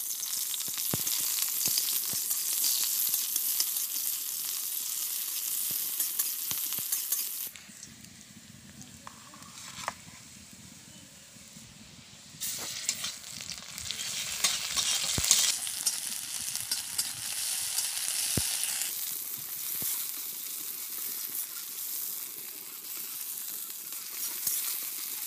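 Hot oil sizzles loudly in a pan as onions fry for a fish curry. The broad hiss runs steadily, drops away for a few seconds, then comes back strong.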